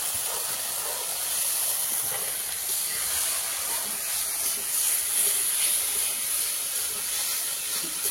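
Cashew paste hits hot spiced oil in a pan, giving a steady, fairly quiet hissing sizzle that runs evenly throughout with slight swells and no talk.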